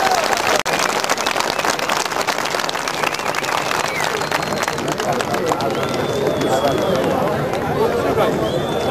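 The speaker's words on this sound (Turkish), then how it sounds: "Bir daha alkış." Crowd applause at a 2004 municipal election result celebration in Çermik, dense continuous clapping with cheering and chatter mixed in, loud and sustained throughout.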